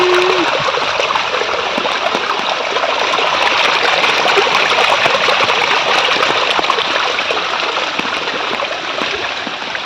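Steady rushing and gurgling of a water stream flowing continuously, close and fairly loud, with splashy trickles throughout and no voices.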